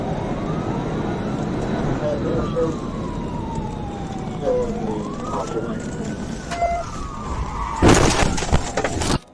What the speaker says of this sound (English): He crashed head-on into two vehicles